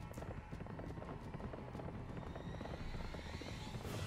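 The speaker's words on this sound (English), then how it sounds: "get on the horse, and away we go." A horse gallops in the video game Berserk and the Band of the Hawk, its rapid, steady hoofbeats rolling continuously under a dense wash of background noise, fairly quiet and with no voices.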